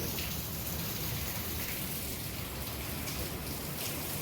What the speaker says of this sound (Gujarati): આ જોવો તમે વરસાદ જોવો